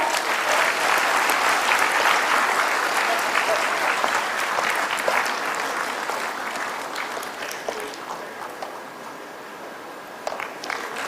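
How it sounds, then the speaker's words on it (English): An audience at a plenary panel discussion applauds during a memento presentation, with full, loud clapping that gradually thins and softens toward the end, leaving scattered individual claps. "Let's continue the round of applause."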